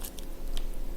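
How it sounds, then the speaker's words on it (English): Someone chewing a Nature Valley chewy fruit and nut granola bar, soft close-up mouth noises with a few faint sticky clicks and crunches spread across a brief moment. "I'm not having a tough time chewing it."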